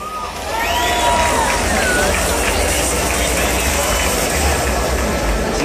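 A crowd applauds and cheers at a cosplay parade at the Yauco Fandom Expo 2015, a dense, steady wash of clapping and hubbub that swells after a quiet start and stays loud throughout.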